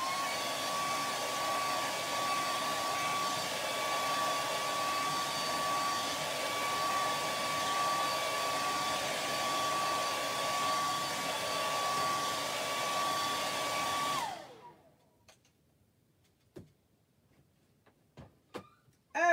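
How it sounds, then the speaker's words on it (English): A handheld blow dryer drying a chalk craft project blows with a loud, steady whir and a constant whine for about fourteen seconds, then switches off, leaving scattered faint clicks and taps. "I think we are going to hit at it with a blow dryer."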